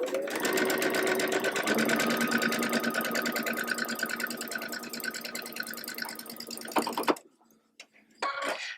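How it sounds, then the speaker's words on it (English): Sewing machine stitching quilt block pieces together, a close, steady rapid mechanical whir running continuously for about seven seconds, then stopping, followed by a short burst of handling noise. "We're just going to sew it together."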